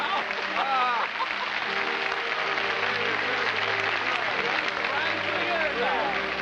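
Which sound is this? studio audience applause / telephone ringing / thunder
studio audience applause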